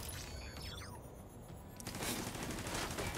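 Video game minigun and turret gunfire, rapid continuous shots that build into a denser, louder barrage in the second half.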